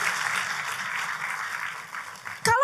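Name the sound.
congregation applauding in church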